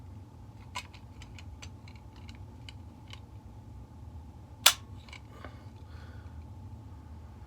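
A Browning BAR sporting rifle's trigger gives several faint mechanical clicks while its pull is measured, followed by one sharper, louder snap partway through; quiet and close, with no talk.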